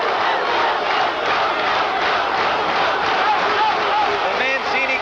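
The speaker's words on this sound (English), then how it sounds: "The Mancini crowd comes alive, urging on this exciting young challenger" A packed boxing crowd at a championship fight in Atlantic City roars steadily, urging on challenger Ray Mancini, a dense wall of cheering and shouts with some whistles.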